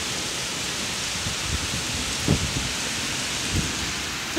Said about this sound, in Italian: ecco tutta la pioggia, e qui come non si vede molto però molto piovoso sotto